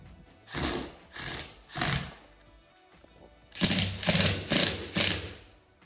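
A screw is driven through a plaster repair washer into a sagging plaster ceiling, heard as short, close whirring bursts of a power driver: three spaced pulses, a pause, then four quicker ones.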